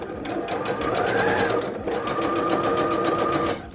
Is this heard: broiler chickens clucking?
no